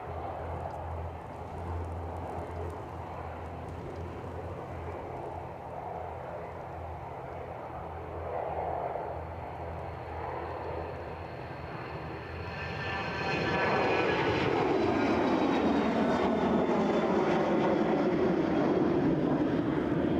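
Transavia airliner at Edinburgh Airport on its return flight to Rotterdam, engines droning at moderate distance and then rising into a louder roar with a sweeping whine as thrust builds.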